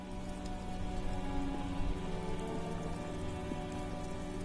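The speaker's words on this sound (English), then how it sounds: "It's raining. It was clear just an hour ago." In Disco Elysium, rain patters steadily on the ground, a quiet, even wash of drops over a low rumbling undertone, unbroken for a few seconds and free of speech.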